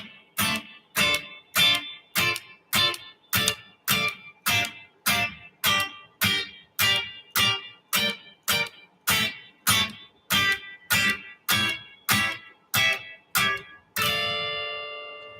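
Short, choppy guitar triads in a minor chord progression, plucked staccato in a steady even rhythm of about two dozen clipped strums, ending on one longer ringing chord; close, clear, and no talking.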